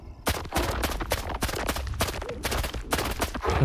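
Rapid bursts of AKS-74U automatic rifle fire in the video game STALKER 2 crack loudly in quick succession, short volleys separated by brief pauses.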